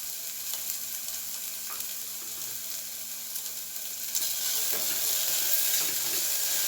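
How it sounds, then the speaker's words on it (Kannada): Vegetables fry in a pan for palak veggie bath, a close steady sizzle with occasional stirring scrapes that grows louder and brighter toward the end. "ಬಿಟ್ಟು ಫ್ರೈ ಮಾಡ್ಕೋಬೇಕು."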